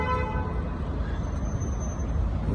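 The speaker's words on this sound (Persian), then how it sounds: "کلا بوق هم اینجا زیاد میشنوید" On a busy city street lined with commercial buildings, traffic rumbles steadily and a car horn toots, the honking sitting in dense road noise without talk.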